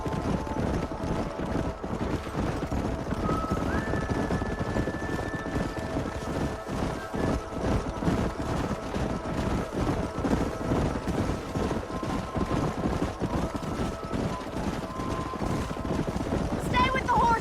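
Horses gallop in Red Dead Redemption on Xbox 360 as wild horses are driven up a canyon, steady hoofbeats continuing throughout with whinnies and distant voices mixed in.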